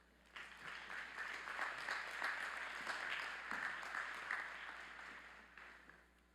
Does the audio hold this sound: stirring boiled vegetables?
no